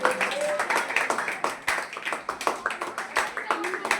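A coaching class claps for students who scored full marks in the NMMS exam, a quick run of sharp, close handclaps in uneven bursts under a speaking voice.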